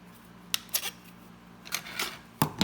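Scissors snip across a strip of window screen mesh for a portable air conditioner install, giving a few crisp close cuts in an uneven rhythm over a low background hum.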